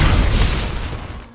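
An Aegrit bomb from the video game Warframe detonates in one loud, close booming blast. Its rumbling tail fades steadily over about a second, with no voices.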